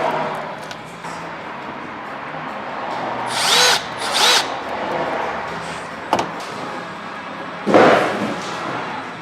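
A small handheld drill drives little Phillips screws to mount a camera, with several short whirring bursts close by over a steady background hiss, plus a couple of knocks.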